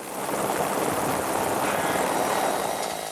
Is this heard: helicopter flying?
yes